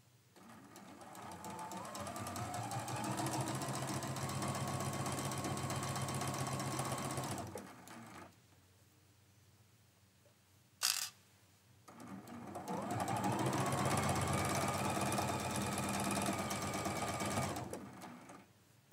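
Sewing machine running steady stitching runs along long quilt seams at a slow, careful pace, two sustained bursts separated by a quiet pause with a brief click, close and fairly loud.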